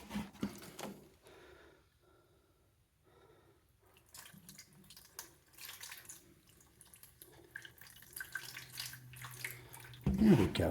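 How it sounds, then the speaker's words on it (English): Tap water runs and splashes while a small Venus flytrap is rinsed at a sink, steady and moderately close, with intermittent gaps and a louder burst at the end. "let's rinse him here."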